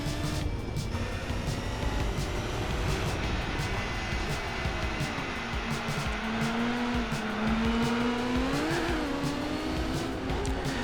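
The Cien race car's engine drones in Gran Turismo 4 with a steady high-revving note. Its pitch climbs and dips through gear changes, with a brief tire-squeal-like rise near the end, and there is no talk.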